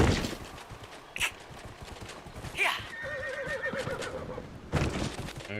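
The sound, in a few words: horse neighing in video game Dragon Age: Inquisition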